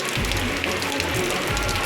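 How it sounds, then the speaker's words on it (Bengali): Rain pours steadily outside a house gate onto a muddy road, a dense, continuous hiss of falling water with a low rumble underneath and no speech. "এই বৃষ্টির ভিডিওটা নিচ্ছি"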